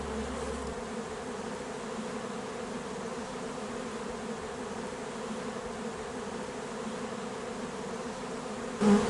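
Gentle, docile honeybees hum around an open beehive in the Drôme, a steady close buzzing drone that continues without break for the whole stretch.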